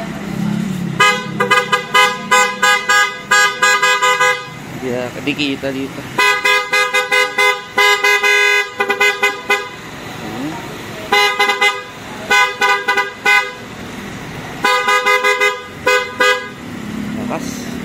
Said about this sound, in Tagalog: Katry nga po ng busina kuya.